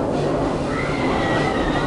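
A Serengeti Railway train arrives at Busch Gardens Tampa with a loud, steady rolling rumble of wheels on track and a faint metallic whine rising over it, close and continuous.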